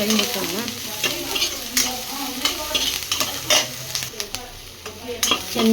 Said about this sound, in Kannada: ಚೆನ್ನಾಗಿ ಫ್ರೈ ಮಾಡ್ಕೊಳ್ಳೋಣ, ಚೆನ್ನಾಗಿ